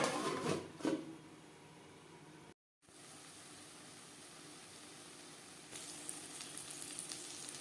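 Fish oil and spring onion sizzle in a pan over a medium-low flame, a faint, steady frying hiss with a few stirring knocks at the start and a brief break midway.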